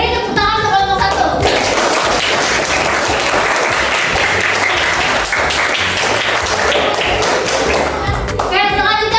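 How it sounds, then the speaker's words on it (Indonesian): Sustained, loud applause from a class audience for the first student group after they present the ingredients and steps for making bakso meatballs, with steady dense clapping throughout and brief voices at the start and end. "Beri tepuk tangan untuk kelompok 1"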